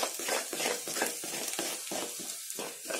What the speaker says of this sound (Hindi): आटा का जो मिक्सचर है वो ऐड कर देंगे। इसे इस तरह से चलाते हुए ऐड करें